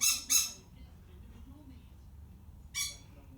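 A pet bird gives two sharp, loud squawks close together at the start, then a quiet stretch with low background rumble, followed by one more loud squawk near the end.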